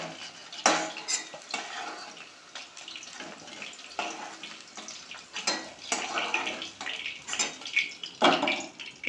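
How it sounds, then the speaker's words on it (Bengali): Cauliflower florets fry in a pan and are stirred and lifted out with a metal utensil, scraping and clinking over a soft background sizzle, in irregular close strokes with no talking. "কপিগুলো আমার লাল লাল করে ভাজা হয়ে এসছে প্রায়।"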